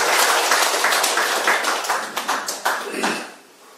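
An audience at a lecture applauds together: dense, close, crackling clapping that holds steady, then thins into a few scattered claps and fades out. No one speaks over it.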